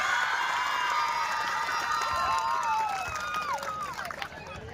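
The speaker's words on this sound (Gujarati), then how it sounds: "તો પોતાના માટે એકવાર જોરદાર તાળીઓનો ગડગડાટ થઈ જાય." A crowd at a charitable trust's independence-history event in Shekhpur, Mahuva, cheers and shouts loudly with whistles and voices, a dense steady roar that thins out toward the end.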